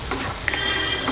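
Onions and cashews frying in a pan: a continuous close hiss and sizzle with light crackles throughout.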